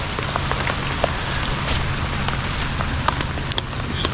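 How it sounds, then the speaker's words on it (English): Heavy rain pours onto water during a catfishing outing, a thick, constant hiss with scattered sharper drop splashes and a low patter beneath, steady and close with no speech. "Man, it's raining hard."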